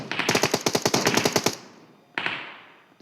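Rapid automatic gunfire rattles in a loud sustained burst, then a second shorter burst follows after a pause, as shots hit a squad in a car-chase shooter video game.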